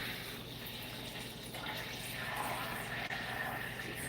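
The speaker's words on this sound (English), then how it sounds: "It's just starting to sizzle." Butter sizzling in a pan while cooking, a soft, steady broadband hiss with a faint bubbling crackle, quiet and continuous with no talk.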